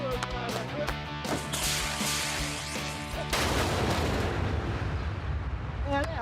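Heavy weapon being test-fired outdoors, with several loud booming shots and a sustained rumbling blast near the end, under excited voices.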